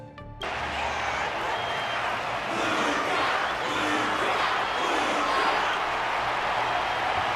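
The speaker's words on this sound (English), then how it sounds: "The audience's passion stays strong. Their constant applause is a salute" A large crowd claps and cheers continuously at a boxing match in a video game, a dense wash of applause that holds steady throughout without letting up.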